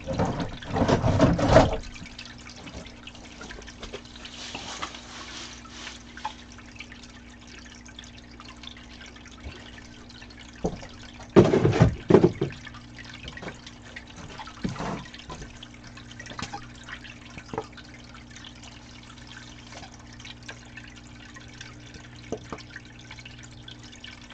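Water poured and sloshed in a shed, with splashy bursts near the start and again around the middle, and scattered drips and trickles in between over a steady low hum.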